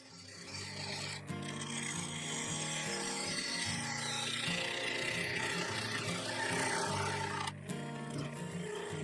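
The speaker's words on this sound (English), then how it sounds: "Then I set to with a bowl gouge, cutting through the top layer of resin into the segments and softwood waste block." Bowl gouge cutting into a spinning sapele and resin vase on a wood lathe, a continuous close scraping, rasping hiss with a low hum, broken by a couple of brief pauses.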